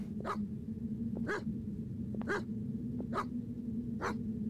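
A dog in a horror video game barks five times at a steady, evenly spaced rhythm over a constant low droning hum, each bark fairly close and clear, with no talking.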